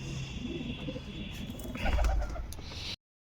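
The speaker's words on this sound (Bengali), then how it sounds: "আর ওই দেখো কত পায়রা" Pigeons on a sunny rooftop, a soft cooing flock in the open air with a brief low fluttering burst midway, heard continuously without talk.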